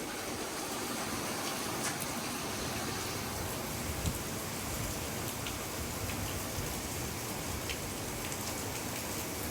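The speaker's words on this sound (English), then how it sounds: "Very rainy." Heavy hurricane rain pours down in a dense, constant hiss, steady throughout with no voices.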